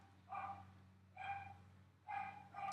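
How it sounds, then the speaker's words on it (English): A pet dog barks indoors in a home, three or four short sharp barks spaced about a second apart, faint and somewhat distant against a low background hum, with no talking. "Sorry if you hear barking, that's my dog."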